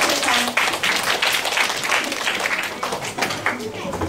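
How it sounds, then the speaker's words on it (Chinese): Applause from a classroom-style audience at a hands-on science demonstration, steady clapping filling the whole stretch at moderate loudness, with a faint voice mixed in. "好，再来鼓掌"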